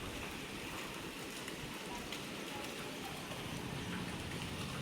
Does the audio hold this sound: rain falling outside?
yes